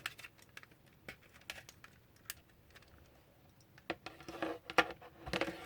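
Plastic packaging around a Retro Duo game controller crinkles and rustles in scattered sharp ticks and crackles, quiet at first and growing busier and louder toward the end, with no talking.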